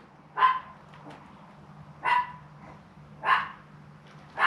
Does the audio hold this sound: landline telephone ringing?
no